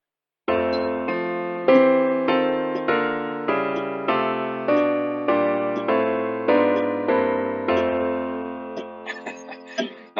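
A hymn arrangement played on a keyboard with chromatic passing harmonies, sustained chords moving steadily from one to the next over a held bass line, about a dozen chord changes, clear and close with no talking.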